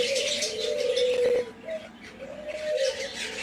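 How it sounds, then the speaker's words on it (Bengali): Hundreds of small lovebirds in an aviary at a resort, filling the air with a loud, continuous chorus of chirps and trilling calls close by, with a brief dip in the middle before the calls rise again. "এখানেও কয়েকশো লাভ বার্ড রয়েছে। লাভ বার্ডগুলো এত কিউট, ছোটো ছোটো লাভ বার্ডগুলো এটা।"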